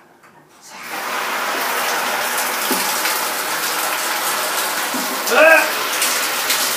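Water pours steadily onto an open umbrella, a loud continuous splashing gush that starts after a quiet moment and runs on, with a short exclaimed voice partway through.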